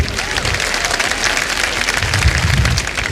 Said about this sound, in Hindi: एक बार फिर तालियां बज जाएं इन तीनों के लिए।